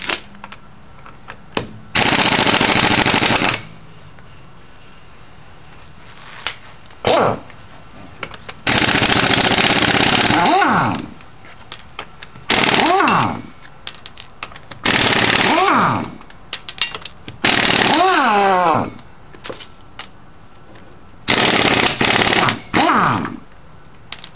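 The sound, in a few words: lug nuts being removed from a Pontiac Grand Prix wheel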